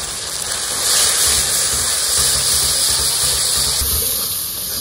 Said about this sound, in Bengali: মশলা কষানো হয়ে গেছে, জল দিয়ে দেবো।